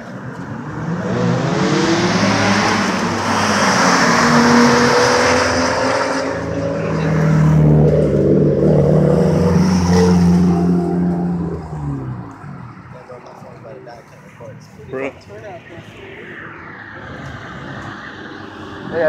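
A fast 1996 or 1997 Subaru Impreza RS rally car on studded tires roars past at a race, engine revving loud and steady before fading, while people talk nearby throughout.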